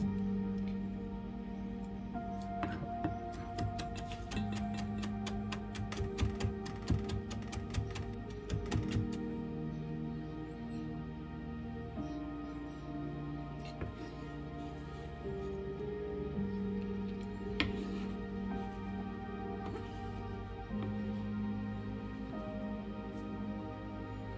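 A knife chopping pork into small pieces on a board, rapid clattering taps in dense bursts, most intense early on, with background music underneath.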